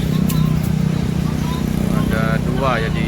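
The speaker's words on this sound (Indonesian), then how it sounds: "masuk lagi ya bus Sempati Star" A Sempati Star bus arriving from Medan at a bus gathering in Palembang, giving a steady, fairly loud engine rumble with traffic noise and voices talking over it throughout.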